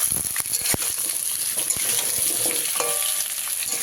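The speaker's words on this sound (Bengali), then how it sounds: "তেলটা ভালো করে গরম করে নিয়েছি কুমড়োগুলো দিয়ে দিলাম দিয়ে এবারে ভালো করে ভেজে নেব" Pumpkin pieces fry in hot oil for a Bengali kumror chokka, with a lively continuous sizzle and bubbling up close and occasional clicks from the stirring utensil, with no voices.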